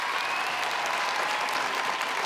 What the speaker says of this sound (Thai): ก่อนตัดสินขอเสียงปรบมือดังๆอีกครั้งนึงให้กับทั้งสองท่านครับ